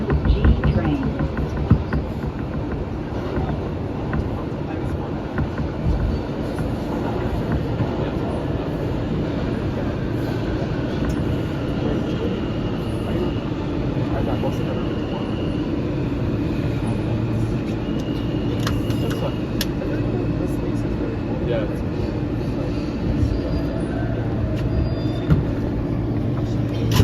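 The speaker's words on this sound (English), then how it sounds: "This is a 179th Street bound Express train." An R160 E express train on the New York City subway, riding toward Jamaica-179th Street, gives a steady, loud low rumble and rattle of the moving car, continuous throughout with occasional faint clanks and squeals.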